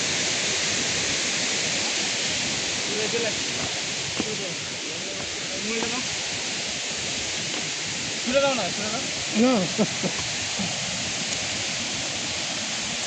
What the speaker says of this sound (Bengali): জলটা ফলসের জলটা এখান দিয়ে চলে যাচ্ছে